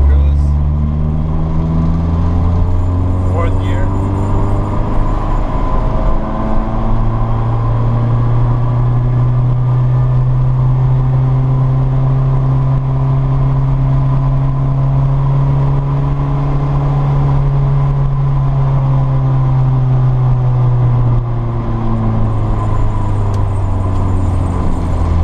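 A car engine cruising at a steady road speed makes a loud, continuous droning hum whose pitch shifts slowly up and down, heard up close from inside the car.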